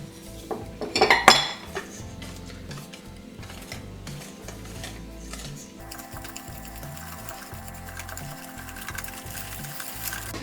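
Cake batter of almond flour and wheat flour mixed in a bowl for a chocolate cherry mousse cake, a busy run of close scraping and clinking from the utensil against the bowl, louder at the start, with no voices.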